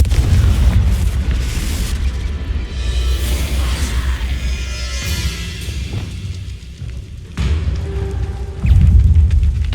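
Explosive Confringo spell blasts in Hogwarts Legacy rumble in deep, heavy booms, loud and close, with continuous low roaring between bursts and stronger impacts near the start and end.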